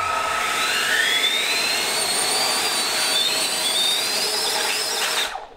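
Propellers of a homemade flying robot vacuum whine up during a hover test, a steady high-pitched motor buzz with rising and falling tones that holds loud for about five seconds, then cuts off.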